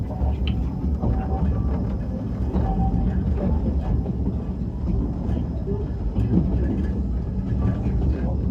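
A vintage steam locomotive pulls a passenger train through the woods at Hesston Steam Museum, giving a steady loud rumble and rattle of cars on the track that continues without a break.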